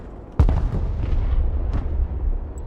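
A single heavy artillery blast in the war game Broken Arrow, one loud close boom followed by a long low rumbling roll.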